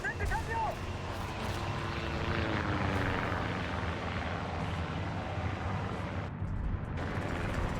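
Enemy aircraft engines drone overhead in the tank battle game War Thunder, a loud sustained propeller roar with rumbling battlefield noise underneath and a brief dip near the end.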